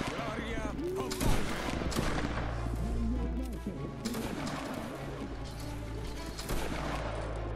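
Musket volley fire in a line-battle video game, a dense crackling fusillade of shots rolling through the whole stretch, with people talking over the comms at the same time.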